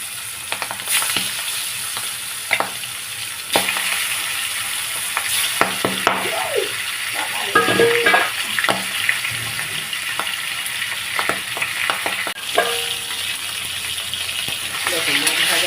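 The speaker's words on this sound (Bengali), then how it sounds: "মাখা হয়ে গেছে, তেল গরম হয়ে গেছে, এবার একটু লবণ দিলাম, মাছগুলো ছেড়ে দিলাম।" Fish frying in hot oil in a pan, a steady close sizzle with clatter and stirring scrapes throughout, a voice briefly talking over it.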